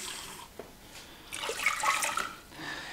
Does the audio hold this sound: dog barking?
no